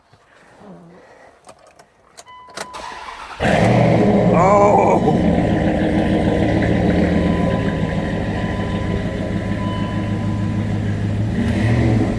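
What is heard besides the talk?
car engine starting and revving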